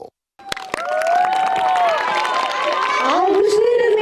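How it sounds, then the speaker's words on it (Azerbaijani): Audience applause at a children's dance festival in Shusha: a dense burst of clapping and cheering that starts abruptly and holds steady, with an announcer speaking over it and a voice rising near the end. "Ürəkdən alqışlayaq"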